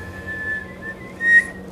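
A young girl whistles a few wavering, breathy notes alone, with a brief louder rise near the end.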